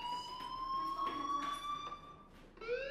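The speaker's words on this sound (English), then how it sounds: "Hey, do you hear that fire alarm?" In the video game Life Is Strange, a fire alarm sounds with a steady, high electronic wail that holds an even tone throughout and rises in pitch at the very end, fairly loud and with no one speaking over it.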